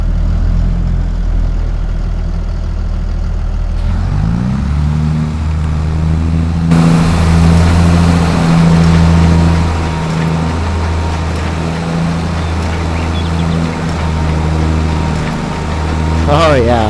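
Tractor engine in Farming Simulator 22 idles low, then revs up and settles into a loud, steady drone that holds for many seconds, with a voice talking over it.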